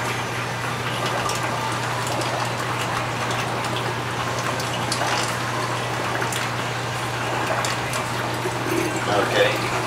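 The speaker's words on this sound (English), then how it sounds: "That little giant pump is stronger than you think it would be." A Little Giant pump runs steadily with a low hum beneath splashing, rushing water, continuous and close, while someone talks over it.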